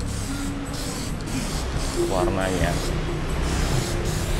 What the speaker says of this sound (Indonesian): Jadi ini nanti kita semprot sebanyak 3 lapis tipis.